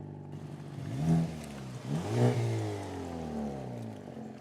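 A car engine revs up twice in smooth rising and falling swells, steady idle rumble between, heard close with no talking.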